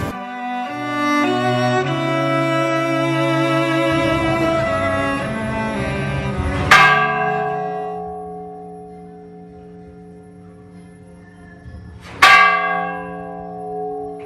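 A church bell rings out in loud, resonant strikes, each leaving a long humming decay, with two sharp clangs spaced several seconds apart.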